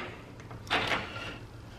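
A sliding bathroom door in a resort hotel room rolls along its track in a single short, soft slide lasting under a second, nearby and fairly quiet, with no talking.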